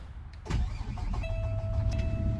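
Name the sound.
car engine starting up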